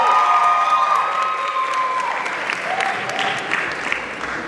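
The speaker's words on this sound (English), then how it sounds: "Can we give Mr. Harris a round of applause" A crowd at a matric dance applauds for Mr. Harris, with sustained clapping, some cheering and high-pitched shouts and whistles ringing over it.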